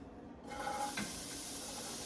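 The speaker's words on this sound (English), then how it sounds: "You hear the sizzle?" Onions hit preheated olive oil in a pot with a sudden hissing sizzle that starts abruptly and keeps going as a steady, close, broadband crackle, with no talk.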